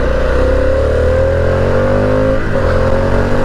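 A 2023 Harley-Davidson Pan America motorcycle being ridden, its engine droning loud and steady up close with a gradually rising pitch as it accelerates, then a brief dip and recovery in revs.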